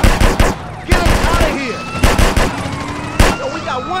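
Gunfire during a drive-by in GTA San Andreas, fired from a Bravado Feroci: four loud, close bursts of shots spaced about a second apart, with engine and street noise and a voice between them.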